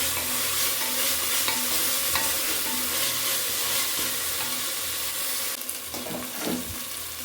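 Spices and cumin frying in oil as a spoon stirs them, a dense steady sizzle with scraping stir strokes throughout, close and loud, with a few sharper clinks near the end.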